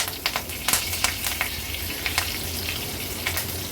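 Curry leaves hit hot oil in a Maharashtrian-style tempering with asafoetida, mustard seeds and cumin, giving a close, crackling sizzle with sharp spitting pops scattered throughout.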